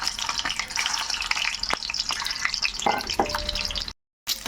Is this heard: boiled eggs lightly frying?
yes